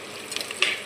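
Shallots are sautéed and stirred in a pan, a short burst of soft sizzling with a couple of light scraping stirs.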